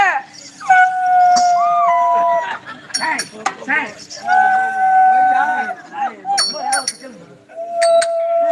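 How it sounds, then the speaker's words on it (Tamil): A dog barks and howls in short bursts amid the loud sounds of an outdoor Tamil kattaikoothu street-theatre performance, with sustained instrumental tones and people talking over it. "நாய் நாய்"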